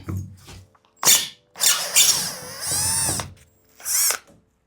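A power drill backs screws out of plywood panels inside a van, with several whirring bursts of varying length separated by pauses and some squeaky high-pitched winding, close and loud.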